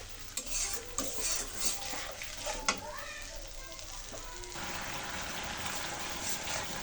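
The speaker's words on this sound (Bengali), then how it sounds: "আমি এখন ধীরে ধীরে মশলাটা ভালো করে কষিয়ে নেব" Spice paste for an egg dish is stir-fried in a pan: soft sizzling with intermittent spoon scrapes and clinks, then a steadier frying hiss, fairly quiet and close, with a faint voice early on.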